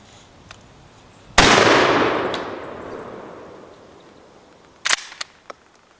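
One loud, sharp blast of a 12 gauge slug from a straight pull shotgun rings out close by and rolls off in a long decaying echo, then a few short mechanical clacks follow as the action is worked.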